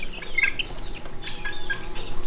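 Several young chicks, including a Yokohama bantam line, chirp with short high peeps and soft clucking over a steady background hum, close and fairly loud.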